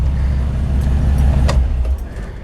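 A 1968 GMC truck on a 2500HD chassis idles with a low exhaust rumble close by, a deep, even drone with faint rattles on top.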